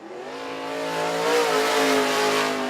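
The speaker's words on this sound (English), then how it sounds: "He'll make his way down for the white flag on his first of 2 qualifying laps" A red number 6 UMP late model race car on a qualifying lap at Merritt Speedway. Its engine swells from a moderate drone to a loud, sustained high-revving roar, with no voices over it.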